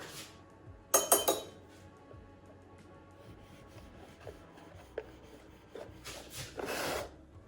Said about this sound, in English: I am just dipping the knife in the boiling water and then running it through the egg